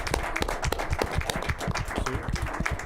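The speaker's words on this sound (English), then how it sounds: "let's give them a round of applause" Brisk clapping from a small group honors the coaches of an under-8 boys' youth soccer team, a close, busy patter of hands lasting a few seconds.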